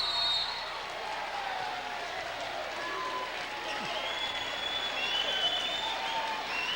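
A crowd at a 2003 boys varsity high school basketball game roars and claps in a gym, a continuous, moderately loud wash of cheering with a commentator's voice over it.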